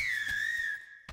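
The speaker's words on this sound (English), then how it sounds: "Did you hear that? Whistling." A clear, sustained whistle holding a steady high pitch with a slight waver, fading out after about a second, followed by a brief soft thump.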